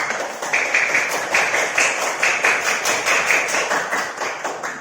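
A classroom audience claps hands in a fairly rhythmic burst, a loud run of quick claps that rises and falls for several seconds with no talk over it.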